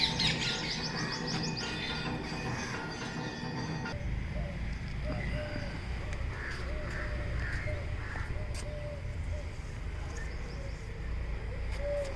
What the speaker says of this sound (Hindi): स्पैरोज़ बोल रही हैं तो कहीं सनबर्ड की आपको चहचहाट सुनाई दे रही है